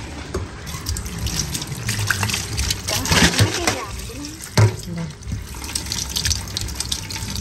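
Field crabs being rinsed under a running tap, a steady close stream of splashing water with brief louder splashes as the crabs are handled, and voices talking over it at times.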